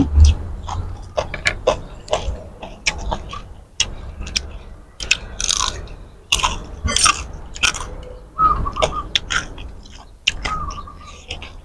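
Crispy deep-fried pork belly, fish-sauce marinated and batter-coated in large chunks, bitten and chewed close up with loud repeated crunches in an irregular rhythm, alone without talk.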